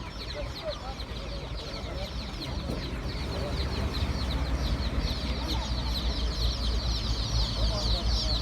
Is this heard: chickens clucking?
yes